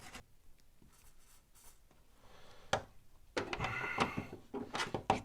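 A brush scrubs a rusty Torx bumper screw on a car in short, faint bristly scratching strokes. The strokes grow louder and more rapid toward the end.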